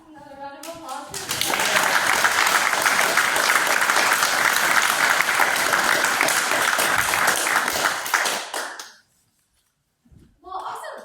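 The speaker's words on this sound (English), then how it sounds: "Another round of applause for" Sustained audience applause at an evening educational event in Eureka, California, rising quickly to a full steady roar of many hands for about seven seconds, then cutting off abruptly before brief talk resumes.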